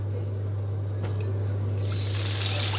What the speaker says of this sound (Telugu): దాంట్లో వాటర్ పోయాం కదా, ఈ చింతపండు వాటర్ వేసుకోవాలి